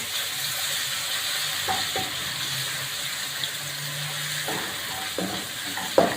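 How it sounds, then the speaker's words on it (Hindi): A steady, hissing sizzle of garlic-ginger paste frying in a pot for lamb pulao continues throughout, with occasional soft stirring clinks and scrapes. "अब मैं इसमें लहसुन अदरक का पेस्ट डालूँगी, 2 टेबलस्पून लहसुन अदरक का पेस्ट।"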